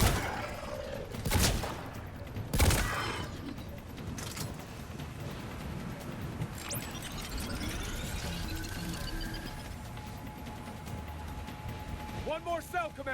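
Weapon fire in Mass Effect 3, with sharp bursts near the start and a busy combat mix of shots and effects throughout, heard under a player's talk.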